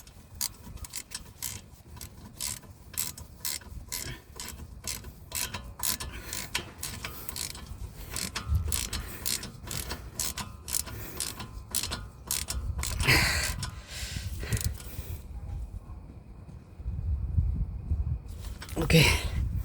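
A ratchet clicks in rapid repeated bursts while the brake caliper cover is tightened on a Volkswagen Golf, close and steady with pauses, and someone talks over parts of it.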